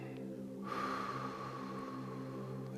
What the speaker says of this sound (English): We're going to breathe deep in through our nose and then out through our mouth.